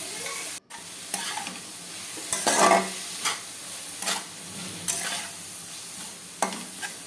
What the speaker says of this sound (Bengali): আর দিয়ে দিলাম ক্যাপসিকাম আর বিনস দিয়ে আমি ভালো করে নাড়াচাড়া করে নেব